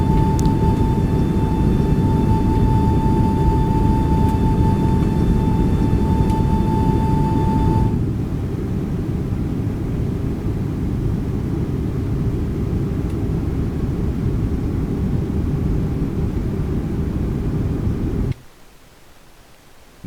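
Airbus A340 cabin and engine noise from the X-Plane 12 simulator with a Mango Studio sound pack: a broad, steady jet roar with a tonal whine that cuts out, then continues more softly before stopping abruptly.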